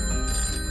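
A telephone bell rings briefly and steadily, a bright metallic trill filling the short moment on its own with no voices.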